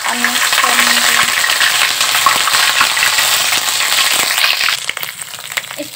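Ginger garlic paste fries in hot oil while being stirred, a loud, dense crackling sizzle with constant scraping of a spoon in the pan, close up and without talk.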